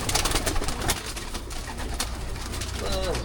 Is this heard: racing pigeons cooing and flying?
yes